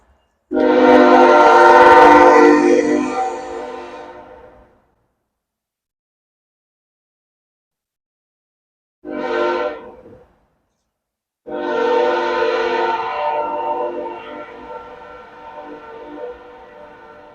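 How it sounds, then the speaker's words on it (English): A train passes in a city near a parking lot, its horn sounding loudly in long blasts broken by silences, a short blast in the middle and a final sustained blast fading at the end. "There's a train."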